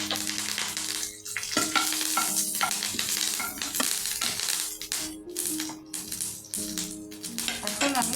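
Dried red chilli pieces and curry leaves frying in a little oil, a busy crackling sizzle with stirring clatter throughout, close and fairly loud, with a short lull near the second mark.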